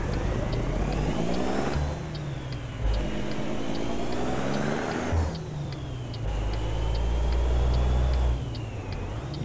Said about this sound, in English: let's roll the windows down so we can listen to the awesome sounds of the truck